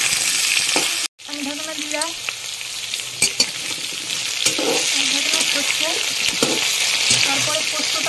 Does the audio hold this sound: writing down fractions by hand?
no